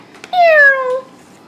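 Single close, clear meow lasting about half a second with a falling pitch, most likely a person's voice imitating a cat while reading an animal picture book to a small child.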